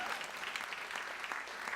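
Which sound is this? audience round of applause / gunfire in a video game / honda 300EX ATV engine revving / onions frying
audience round of applause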